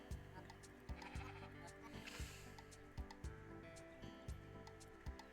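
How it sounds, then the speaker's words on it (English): Sheep in the video game Discounty bleat in short repeated calls over a looping, steady game soundtrack, fairly quiet throughout. "I'm finding these sheep."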